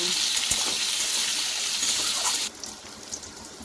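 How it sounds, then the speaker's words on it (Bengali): Steady crackling sizzle of onions frying in hot oil, close and bright, easing to a softer sizzle partway through; no voices. "পেঁয়াজটাকে লাল লাল করে ভেজে নেব।"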